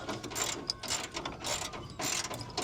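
A ratchet wrench loosening a bolt on an old Ford F100 Flareside Bullnose truck, close rapid clicking in repeated bursts with short pauses between strokes, no talk.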